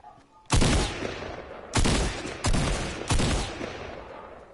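Gunfire in a PS4 shooter video game: four loud, close bursts of rapid automatic fire, each a couple of seconds long with short gaps, over quiet game background.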